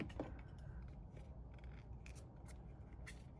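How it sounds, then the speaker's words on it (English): Scissors cutting paper for a paper succulent craft, a few soft, quick snips standing close but faint above a steady background hiss. "snip some of this off"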